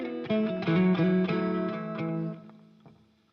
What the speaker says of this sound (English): If I turn my volume down, put on neck pickup